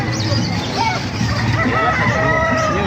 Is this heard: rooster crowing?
yes